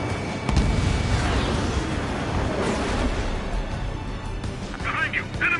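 Missile launch followed by a heavy explosion in an air-combat video game: a dense, loud roaring blast with rumbling low end that sustains for several seconds, then fades under scattered cockpit radio chatter and small electronic beeps near the end.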